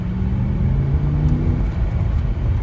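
A BMW M5 with a turbocharged engine pulls under boost from inside the cabin, giving a steady loud low rumble and whir with a slight rise, and no talk over it.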